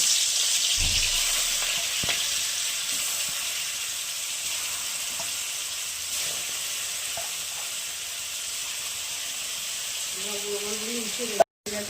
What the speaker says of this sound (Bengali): হলুদ লবণ মাখিয়ে নিয়ে মাছগুলোকে ভেজে নেব।